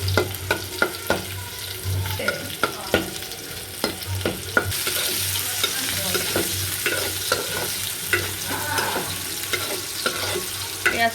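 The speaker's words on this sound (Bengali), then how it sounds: "শুকনো মরিচটা আমি ভাজি।" Dried chili frying in a pan gives a steady hiss and crackle of hot oil, with repeated sharp scraping clicks of a utensil stirring against the metal, close and continuous and growing brighter partway through.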